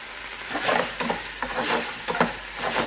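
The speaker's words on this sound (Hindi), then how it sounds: "कुछ सेकंड तक इसके साथ भी हम फ्राई करेंगे।" Noodles being stir-fried with half a chicken stock cube, a steady close sizzle broken by repeated scraping stirs of the spatula in the pan.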